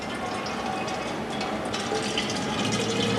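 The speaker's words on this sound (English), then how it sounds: "We shall pour this now, this dilute iodine solution," Dilute iodine solution is poured into a glass measuring cylinder, giving a steady, continuous liquid pour with a bright trickling wash that holds at an even level throughout, with no voices.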